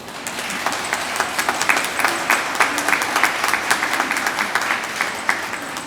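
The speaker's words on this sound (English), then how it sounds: "I'd like to start off with a round of applause for all of the volunteers and the organizers" A conference crowd applauds steadily at a formal opening, many hands clapping together in a dense, sustained patter that stays even throughout.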